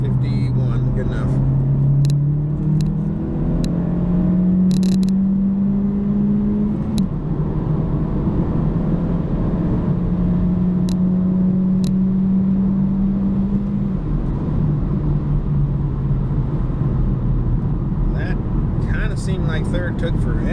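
A 2017 Honda Civic EX-T with the 1.5-litre turbo engine, tuned with a Ktuner V2, pulling hard in third gear, engine drone rising steadily in pitch through a long wind-out, loud cabin sound with brief clicks.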